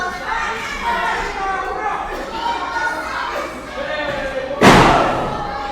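A pro wrestler strikes an opponent in the corner at a live wrestling show, giving one loud, sharp slam near the end over steady crowd chatter and commentary.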